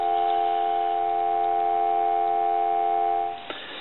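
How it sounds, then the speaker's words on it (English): A steady telephone dial tone sounds on a converted Kellogg wooden wall crank phone, a continuous even hum held for over three seconds before cutting off with a faint click. "Give you some dial tone."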